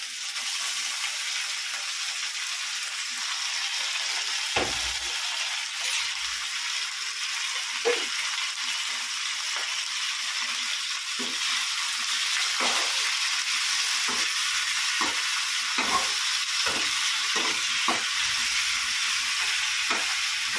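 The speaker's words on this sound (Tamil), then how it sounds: "இந்த வெங்காயம் வதங்கினதுக்கப்புறமா ஆ கறி போடுறேன்" Meat frying with sautéed onions in a pan for a home-cooked curry, a constant loud sizzle with occasional stirring scrapes and small pops throughout.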